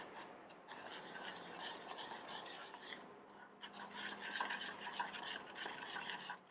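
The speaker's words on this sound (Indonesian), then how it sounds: "aduk rata" A spice marinade of chili powder, fish sauce, soy sauce and mashed garlic being stirred in a bowl for fried chicken gives two stretches of close, rasping, scraping strokes separated by a short pause.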